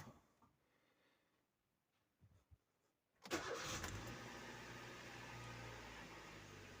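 A Hyundai i10 1.2 petrol car, just refilled with fresh engine oil, sits quiet before its starter cranks briefly and the engine catches into a steady, close idle.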